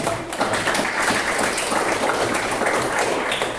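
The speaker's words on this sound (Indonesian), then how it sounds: "beri tepuk tangan dulu untuk Rehan." Applause from a classroom of students after a presentation: dense, steady clapping from a nearby group that stays loud and even for the whole stretch.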